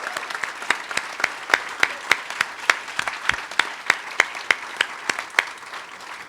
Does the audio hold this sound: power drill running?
no